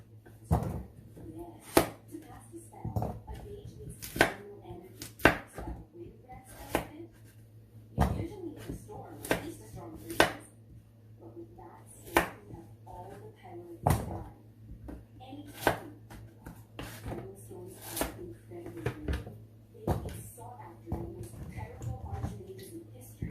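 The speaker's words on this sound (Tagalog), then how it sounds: "Hinihiwa para mabilis malaga." A knife slicing garden-harvested potatoes for mashed potatoes, giving sharp, irregular knocks on a cutting board over a low steady hum, with a person talking now and then.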